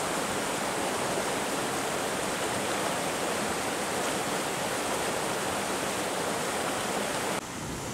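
Cold mountain stream fed by glaciers rushing and splashing steadily, a dense broadband roar of water close by, unbroken for nearly the whole span.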